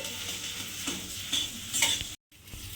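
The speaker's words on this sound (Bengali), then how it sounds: "আলুটা এর মধ্যে দিয়ে খুব ভালোভাবে মিশিয়ে একটু ভাজা ভাজা মতো করে নিতে হবে।" Grated potato stirred and fried in a pan: a steady close sizzle with scraping spatula strokes, a brief dropout near the end, then frying resumes.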